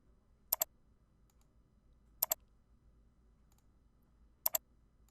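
Three distinct double mouse clicks, spaced about two seconds apart, sound crisp and close on a quiet desk while Outlook automatic-reply settings are adjusted on an Office 365 computer.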